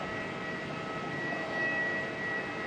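An Air New Zealand airliner, flight NZ539 to Christchurch, departs Auckland Airport with a faint, distant, steady jet-engine rumble and hum that swells slightly midway, with no voices.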